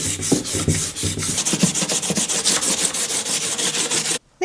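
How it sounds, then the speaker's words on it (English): Sandpaper rubbed back and forth along the edges of a Mod Podge transfer craft, a close, steady series of rasping strokes with no talking. "we'll just give that a nice sand too to blend all in"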